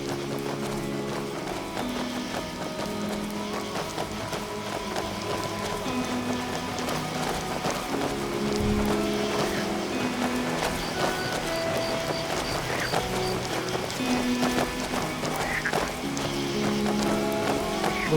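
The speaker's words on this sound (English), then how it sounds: "Don't you just love a bit of rain?" Rain falls in the Skyrim video game, a soft steady patter beneath horse hoof clip-clops and light background music.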